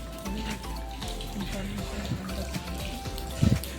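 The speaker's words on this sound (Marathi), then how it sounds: "इथं बघा ना डायरेक्ट म्हणजे डोंगरातून पाणी येतं" Water flows out of the rock inside the Pandavleni caves in Nashik, a steady trickling splash close by, with someone talking over it.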